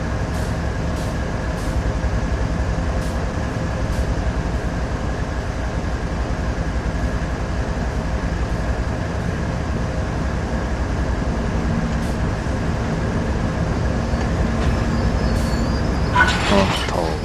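Train running in Train Sim World 3: a steady, continuous rumble with a low hum and faint clicks as the locomotive rolls along, joined by a brief rattling burst near the end.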